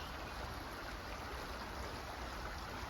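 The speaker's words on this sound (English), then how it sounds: "Our pitch is right next to the river," A river running right beside a campsite pitch in Priay, France, giving a steady, even rushing wash of water throughout, soft and unbroken with no voices.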